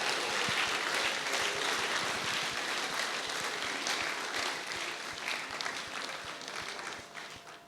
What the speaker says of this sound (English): So can we help ourselves now by clapping?